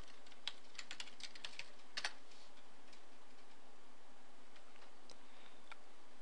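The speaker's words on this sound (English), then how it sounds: "In here, I'll type ipconfig." Quick bursts of typing on a computer keyboard, entering a command: a cluster of light key taps in the first two seconds over a faint hum, then near silence.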